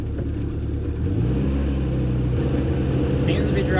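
Triumph Spitfire with a new distributor driving on the road, its engine giving a loud, steady rumbling drone that rises slightly partway through, with cabin noise and some talking.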